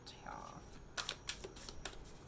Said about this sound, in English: let me just get the cards laid out